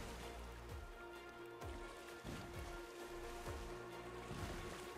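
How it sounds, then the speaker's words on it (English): Steady rainfall in the survival game ARK Genesis, a dense continuous hiss of drops on water and surfaces heard while paddling a canoe, with no talk over it. "It must finally be getting rain."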